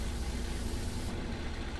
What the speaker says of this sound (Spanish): Ahí está el sonido del autobús, perfecto.